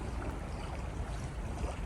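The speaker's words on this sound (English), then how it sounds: "this is what you call peaceful sailing. Just a light breeze" A sailboat moves gently through the water in a light breeze, with a soft, steady wash of water and wind hiss running evenly throughout, with no voices.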